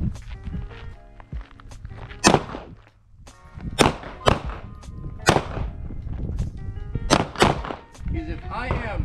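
Pistols fire at an outdoor shooting range during a fundamentals class: about eight sharp, loud cracks in an irregular sequence, some from multiple shooters close together, each with a brief echoing tail.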